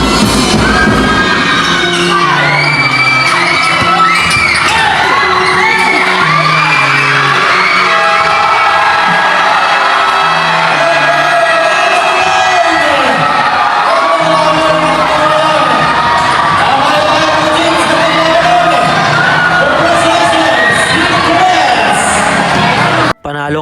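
Fans at a basketball summer league finals game in Batingan Coliseum shout, whoop and cheer in a loud, continuous roar, with high shrill yells and rising swells of crowd noise filling the arena before an abrupt cut.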